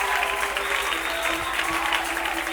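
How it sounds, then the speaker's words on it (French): Dense, sustained applause from a large congregation at a church sermon, continuous clapping with some cheering mixed in, loud and close for a few seconds. "Mais je voulais entendre des acclamations, mon Dieu"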